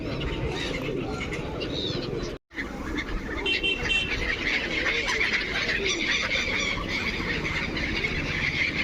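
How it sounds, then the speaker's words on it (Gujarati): At a feeding spot, a large flock of pigeons coos and calls in a dense, continuous chorus close by, with one brief dropout in the sound early on. "અમે અહીંયા કબૂતરને ચણ નાખવા આવી ગયા છે"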